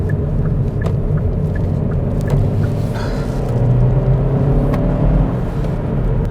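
A 2021 Kia Proceed GT-Line takes a roundabout quickly, its engine a steady, loud low rumble with faint tyre and road noise and brief ticks from inside the car, with no talking.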